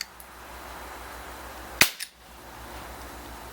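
A Crosman 357 .177 caliber CO2 pellet revolver fires a single sharp, close crack, followed a moment later by a smaller impact knock before quiet returns.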